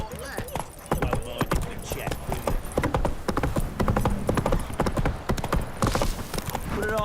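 Hooves clip-clop in a fast galloping rhythm from a horse in a video game, with a brief whinny, running steadily under a person talking over the gameplay.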